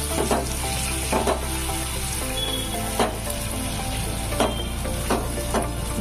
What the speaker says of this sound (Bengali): ম্যাশ পটাটোটা দিয়ে আমি এটাকে খুব ভালোভাবে 2 থেকে 3 মিনিট এই ঘিয়ের মধ্যে নাড়িয়ে নেব